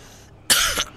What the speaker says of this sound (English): Try not to cough!